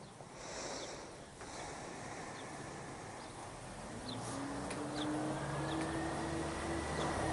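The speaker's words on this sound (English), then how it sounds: "a big tractor, oh no, a big truck going up the road" A big truck driving up a road, its engine drone rising and growing louder in the second half, heard from a distance against steady wind and outdoor background noise, with no talking.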